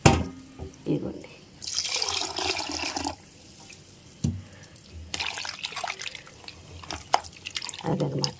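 Water poured from a small vessel into a dough mix for flour vadiyalu, heard as several splashing and gurgling bursts separated by pauses, with someone talking in between.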